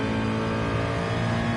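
A Nissan car engine in Gran Turismo Sport at Monza, a steady high rev drone with strong harmonic tones, loud and continuous over a short stretch.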